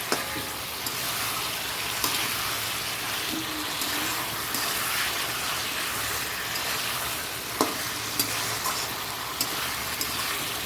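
Curry cooks down in a pan with a dense, continuous sizzle, broken by occasional sharp clicks of a spoon against the pan. It is fairly loud and close, and there is no speech.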